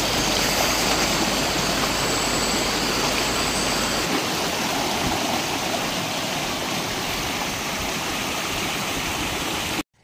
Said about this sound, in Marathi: तर मस्त आहे की झरा बघा कसा पाणी आहे